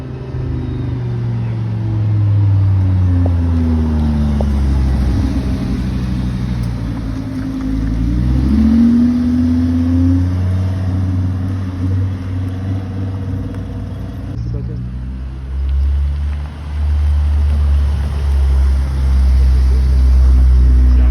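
A V10 supercar at a supercar gathering in the Vercors, its engine rumbling loud and close with rising and falling revs over about twenty seconds, with faint voices underneath.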